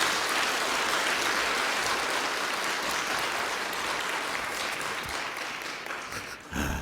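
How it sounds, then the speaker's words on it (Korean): A church congregation gives a long round of applause, a thick wash of clapping that holds steady and slowly tapers off near the end. "박수 한번 합시다."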